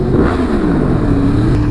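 A 2016 Yamaha R1S sport bike revs hard inside a tunnel, a loud, close engine roar with rising and falling pitch sweeps that echo off the walls, steady and unbroken throughout.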